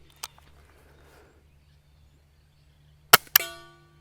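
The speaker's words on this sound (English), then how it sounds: "Shooting some very, very quiet rounds today." Two sharp cracks from a 22 rifle firing quiet Aguila Colibri rounds without a suppressor during outdoor target practice: one brief pop near the start, then a louder close crack with a short ringing tail about three seconds later, over a low steady hum.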